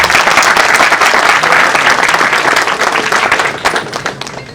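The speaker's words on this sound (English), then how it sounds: "May we have a huge round of applause." Loud, dense audience applause at the inauguration of India's first space weather prediction centre at SAKEC, a steady wash of many hands clapping that thins and fades near the end.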